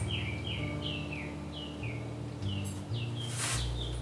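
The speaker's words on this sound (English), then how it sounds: "Can you hear the birds?" Songbirds sing outdoors near a porch, a repeated series of clear descending chirps at moderate distance over a steady low hum.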